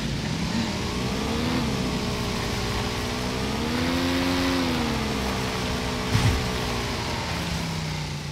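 A car engine hums steadily while driving in PUBG, its pitch rising and falling as it revs and eases off, with a short knock near the end.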